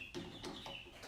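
Young Russian Orloff chickens kept indoors make several short, quiet clucks and peeps in a brief uneven run, close by and soft.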